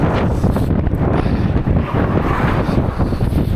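Strong gusts of Storm Eowyn buffet the microphone, a continuous loud roaring rumble that surges and swirls without letting up, with no voices.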